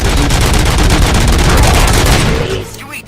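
Gunfire in the RoboCop video game: a loud, dense, continuous burst of rapid shots filling nearly the whole stretch before easing off at the end.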